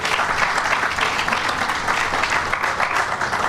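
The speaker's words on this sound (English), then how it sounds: "Let's give her a round of applause." Groundbreaking-ceremony audience applauding for a park station lofts project, a steady dense wash of many hands clapping at close range, continuous and loud for the whole stretch.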